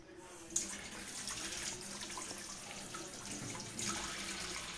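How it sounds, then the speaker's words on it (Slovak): Cold tap water runs steadily into a cooking pot in a home kitchen, a soft continuous splashing rush with a couple of brief louder spurts. "Napúšťaj studené vody do nich."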